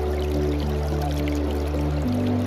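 Steady broadband rush of water pouring through a gold prospecting sluice on a gravel bar, continuous and close, with a low droning hum underneath and no speech.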